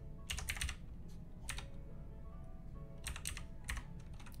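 Quiet clicking of fingers typing on a computer keyboard, coming in short bursts of several quick keystrokes separated by pauses, close and soft with nothing else heard.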